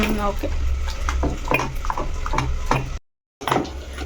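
A spoon stirs a thick curd and flour batter in a bowl, with repeated scraping and tapping strokes, loud and close, broken by a brief silent gap.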